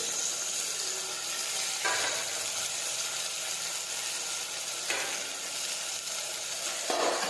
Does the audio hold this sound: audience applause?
no